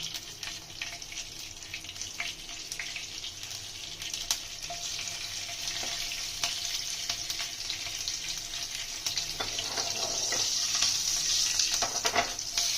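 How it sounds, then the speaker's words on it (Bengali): Black cumin (nigella) seeds and a green chilli splutter in hot oil left from frying fish, a close sizzling hiss dotted with small pops and crackles that grows slightly louder toward the end. "তেলের মধ্যে কালো জিরে ফোড়নে দিয়ে দিলাম, আর একটা কাঁচা লঙ্কা"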